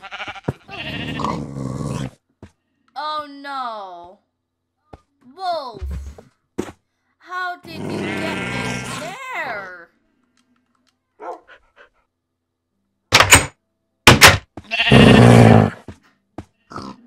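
Sheep bleat in the Minecraft video game, several wavering cries mixed in among stretches of talking, grunts and other brief game noises.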